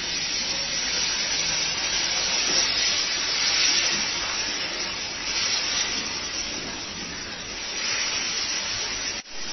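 Water added to chicken cooking in a hot pan hisses and steams loudly, a continuous close sizzle that rises and falls in waves before a brief clatter near the end.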